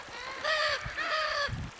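Indigo macaw giving two harsh, raspy squawks in quick succession, each about a quarter second long and fairly close, with a faint background between them.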